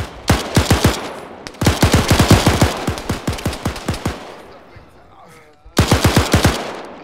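Bursts of machine gun fire ring out in an Arma 3 Falklands War battle at Goose Green, loud and close, in several rapid strings of shots separated by short pauses, with faint voices behind.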